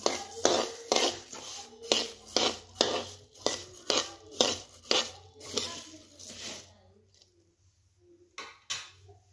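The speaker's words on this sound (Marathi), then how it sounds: "आता टाकून घेतले कढईमध्ये, चांगलं भाजून घ्यायचं।" Almonds, cumin and ajwain roast in a kadhai, stirred with a utensil that scrapes and clanks in a steady rhythm of about a dozen strokes, then slows to a few scattered scrapes.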